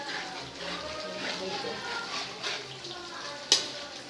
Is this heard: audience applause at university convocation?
no